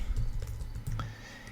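Typing on a computer keyboard, a quick run of light clicky keystrokes close up, steady and fairly quiet, with no talking.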